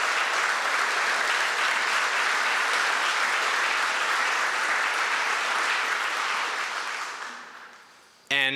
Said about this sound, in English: Please give yourself a loud round of applause for how far we've come